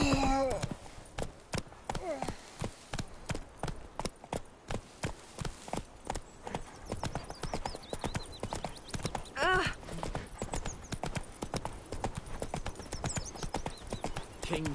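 Roach, Geralt's horse in The Witcher 3, gallops with a fast, even clip-clop of hoofbeats that runs throughout, joined by brief snorts and game voices over the top.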